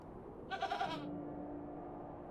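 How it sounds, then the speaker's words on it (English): Goat in the video game The Excavation of Hob's Barrow, a single short wavering bleat at close range over a quiet ambient hum. "it's a goat"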